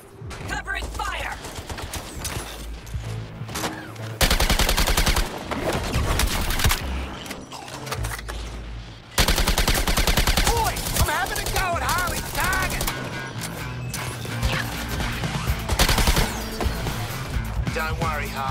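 Sustained bursts of gunfire during a fight in Suicide Squad: Kill the Justice League, loud and dense rapid shots with heavy impacts and a few brief pauses, running the whole stretch alongside game sounds.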